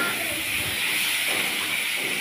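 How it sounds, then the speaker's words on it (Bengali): Spiced oil sizzling in a pan as potatoes go in for a fish curry, a steady close hiss of frying that holds evenly throughout with no talking. "আমার মশলা দিয়ে তেল ছেড়ে দিয়েছে, আমি এখন আলুগুলো দিয়ে দেব"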